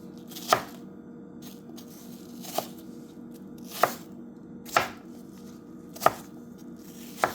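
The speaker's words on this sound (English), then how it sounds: "when you want to slice the apples for this, you just take them, put them side by side like this" Apples being sliced for an apple cake on a cutting board, six sharp knife chops spaced about a second apart, close and distinct over a quiet background with no talking.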